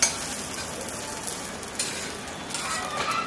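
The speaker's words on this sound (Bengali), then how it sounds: "এখন আমি এটাকে উল্টায় ওই দিকটা করে নিই।" A semolina breakfast snack fries in a pan with very little oil, a continuous close sizzle with scraping and a few soft bumps as it is turned over, no talking.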